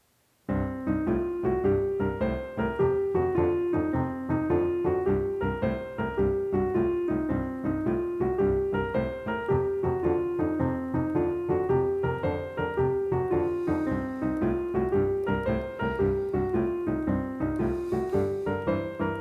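Solo piano plays a steady, looping 12-bar blues pattern, left hand rocking under a one-octave right-hand blues scale figure, loud and continuous with no voices.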